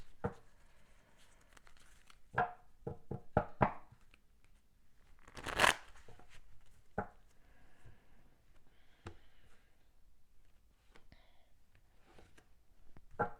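Tarot cards are shuffled in bursts of crisp riffling and flicking snaps, close and fairly quiet, with gaps of near silence between shuffles.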